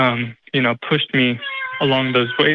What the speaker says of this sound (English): Sorry, that's the cat, if you heard that.